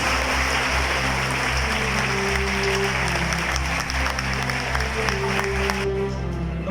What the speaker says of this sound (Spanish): Pedimos un fuerte aplauso para todos estos jóvenes de las diferentes especialidades